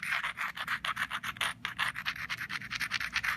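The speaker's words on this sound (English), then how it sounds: "And go ahead and grind that a little bit." The edge of a stone point is ground during flintknapping, making a fast, steady rhythm of close, harsh rasping strokes that continues without a break and without talking.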